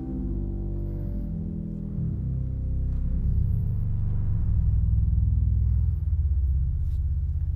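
A concert hall pipe organ sounds its 32-foot bass stop together with a principal stop, producing a deep, sustained, room-shaking chord that swells louder partway through and holds steady to the end, with no voices.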